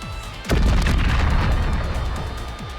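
One heavy bomb explosion in the game Goddess of Victory: Nikke, a sudden loud boom followed by a long rumbling roar that slowly fades, with no speech over it.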